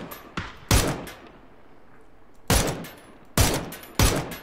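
Gunfire in PUBG duo match: loud sharp shots in irregular bursts, a pair early, then another cluster of three or four strong blasts after a quiet stretch, with no talk.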